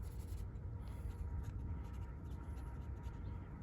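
A paintbrush scratching acrylic paint across a canvas, a faint dry rasping stroke sound, close and continuous for a few seconds.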